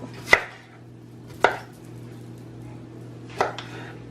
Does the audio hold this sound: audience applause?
no